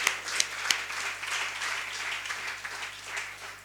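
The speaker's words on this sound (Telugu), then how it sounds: "వాళ్ళిద్దరికి చప్పట్లు కొట్టి అభినందించండి అందరూ." Church congregation applauding two cleaners, a sustained wash of many hands clapping at a moderate distance, steady and fairly loud with a few sharper claps near the start.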